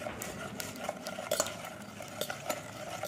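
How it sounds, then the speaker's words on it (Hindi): Churning a medicated enema mixture with rock salt: a utensil stirring and scraping in a bowl with a soft, continuous swishing and occasional light clinks, heard close and alone. "अब इनकी चर्निंग करते हैं, इनको प्रॉपर हम मिक्स करेंगे।"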